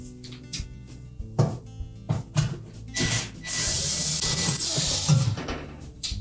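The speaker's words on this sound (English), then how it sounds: "They're held in place with a number 2 Phillips screw. So we'll just remove both of these screws." A screwdriver backs two No. 2 Phillips screws out of the fan cover inside a Samsung range oven, giving short scraping and ticking bursts followed by a longer rasping stretch, close and fairly quiet.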